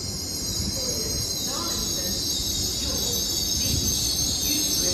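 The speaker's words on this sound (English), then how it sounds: "Departing now is LNER." LNER passenger train departing Durham station, a steady loud rumble of wheels and rail noise with a faint high whine, continuous and close throughout.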